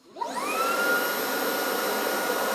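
Roborock Dyad Pro wet-dry vacuum running its brush self-cleaning cycle, a steady loud motor whine that spins up quickly with a rising tone, then holds constant with a broad whooshing airflow.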